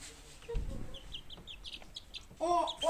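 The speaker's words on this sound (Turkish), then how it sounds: "Bu hem tavuk hem horoz çok uyanıklar." Chickens cluck and a rooster calls in short bursts nearby, growing louder toward the end, with a low thump partway through.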